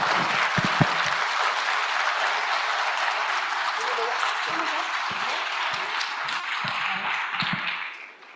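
An audience at a panel on water sustainability applauds the women panelists, a dense sustained burst of clapping that fades toward the end, with a few voices mixed in.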